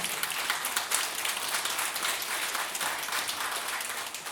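Audience applause at the opening of a painting exhibition by Jerzy Springer at a youth cultural centre, a steady dense round of clapping filling the room and holding evenly throughout.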